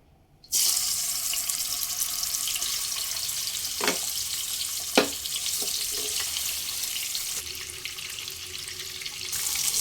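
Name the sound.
bhetki fish frying in oil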